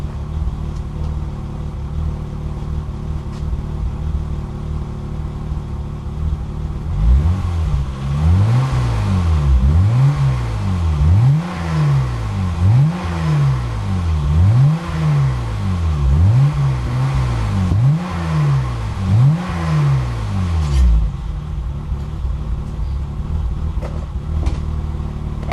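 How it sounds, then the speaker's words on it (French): A BMW E30 six-cylinder fitted with a stainless sport exhaust idles, then revs repeatedly in rising and falling sweeps for about fourteen seconds before settling back to a steady idle, loud and close with no talk. "On va essayer de l'accélérer un petit peu et on va voir si ça vaut vraiment le coup."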